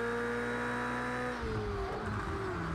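Race car engine in Project Cars 2 running at a steady high rev, then dropping in pitch as it shifts into fourth gear and pulling again, loud and close with no talk over it.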